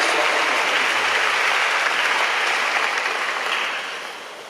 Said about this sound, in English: She also likes applause for her.